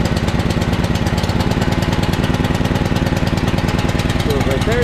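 A small engine idles roughly at close range, its uneven, rapid chugging pulses continuing loudly and without a break throughout.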